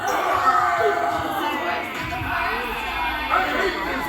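A large convention panel audience voices zombie deaths, with a crowd of overlapping groans and moans rising and falling together across the hall. The voices are imitating the sound of dying zombies.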